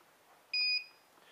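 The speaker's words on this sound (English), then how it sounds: "the scale beeps 500, saying that it's accepted it" A Myweigh i601 digital scale gives one short, clear electronic beep as it accepts a 500 gram calibration weight, heard close against a quiet background.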